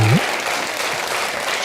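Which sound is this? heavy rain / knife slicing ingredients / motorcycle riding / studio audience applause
studio audience applause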